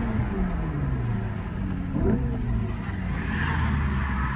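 A simulated engine note from a Hyundai Ioniq 5 N electric car, played through its speakers during a ride, hums and rises in pitch like a revving engine with shifting gears, steady and fairly loud inside the cabin.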